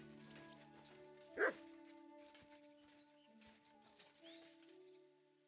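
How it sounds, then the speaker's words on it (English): A dog in the game Kingdom Come: Deliverance 2 gives a single faint yip or bark, distant and brief, over quiet ambient game sound. "Barking."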